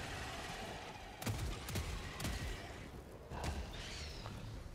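In the video game Helldivers 2, an autocannon fires a few heavy, spaced shots that sound distant and muffled over a steady rushing background din.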